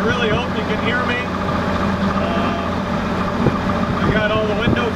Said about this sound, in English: I got all the windows open, so there's a lot of air noise, I know that.